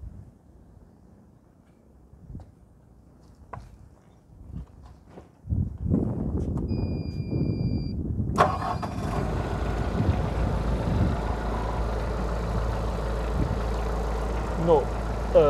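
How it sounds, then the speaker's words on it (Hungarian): A Maximal M40x diesel forklift sits quietly amid a few faint knocks before its engine cranks and fires at once, then settles into a loud, steady diesel clatter that continues close by to the end. "Indítsuk be a motort, kicsit mozgassuk meg a gépet, hogy lássuk, milyen munka közben"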